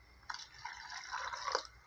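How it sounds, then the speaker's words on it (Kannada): Water poured into rasam during cooking, a short soft splash and trickle of liquid into a pot, quiet and close. "ಹಾಕ್ಬಿಟ್ಟು ನೀರು ಆ್ಯಡ್ ಮಾಡ್ಕೊಳ್ಳೋಣ."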